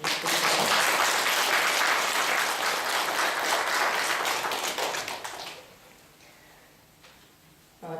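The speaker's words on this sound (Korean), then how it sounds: "그 두 분 다 위해서 박수 한번 쳐주셨으면 좋겠습니다" An audience at a temple gathering applauds two people with dense, steady clapping for about five seconds. The clapping then fades out abruptly, leaving quiet room tone with a few faint taps.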